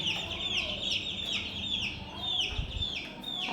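A household hen cackles after laying an egg, with a string of close, insistent clucks. A voice talks softly underneath part of it.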